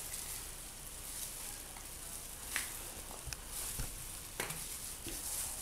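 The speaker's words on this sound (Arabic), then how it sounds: "حضرنا الماء يغلي يسخن" Water heating toward a boil in a pot on the stove for Tunisian octopus soup, giving a steady soft sizzling hiss with occasional small pops and clicks, close and fairly quiet throughout.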